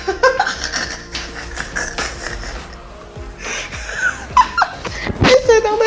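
Dogs whimper and yip indoors in high, wavering whines that rise toward the end, mixed with shuffling and people talking close by.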